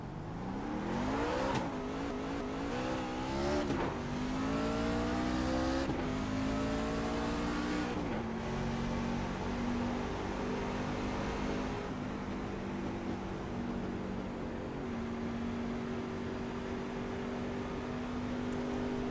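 Racing trucks in the iRacing game at Iowa whine past in a dense stream, engine pitches sweeping and dropping as they pass, loud and continuous with no gaps.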